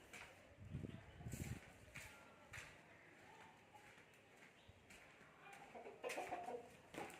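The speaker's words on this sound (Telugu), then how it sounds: "ఇది మా కోడిపిల్ల అన్నమాట." Soft chicken clucks and a few cheeps from a baby chick at a rural homestead that keeps buffaloes, quiet and intermittent, with a low rustling bed and no talk.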